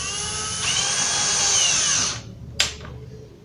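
A power drill drives self-tapping 6 x 1 1/8 inch screws into melamine for an office drawer cabinet, with a steady whine that runs loud for about two seconds and then stops, followed by one short sharp burst.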